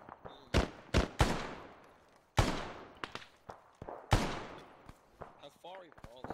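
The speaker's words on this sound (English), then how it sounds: "Get some covering fire down for the other squad." Bursts of gunfire from a video game firefight, loud sharp shots fired singly and in short rapid strings, with echoing tails, some more distant pops and a voice speaking near the end.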